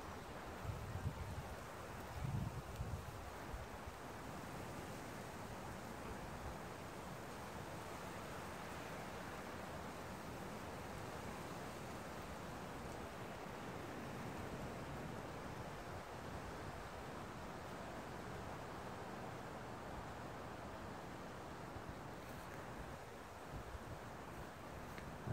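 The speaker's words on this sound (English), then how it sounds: "Like the sound of the wind." Steady wind blows through an outdoor setting in Tampa Bay on a cool, overcast, breezy day, a continuous broadband rush with gentle swells and mic buffeting, with no voices.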